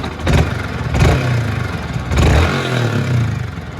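A Yamaha R15 V3 motorcycle engine, checked at a bike service shop with a hand over the silencer, revs up in several close, loud surges between rumbling idle.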